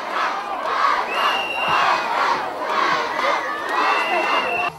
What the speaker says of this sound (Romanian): Sute de persoane strigau la unison numele artistului a cărei apariție pe scenă și-o doreau.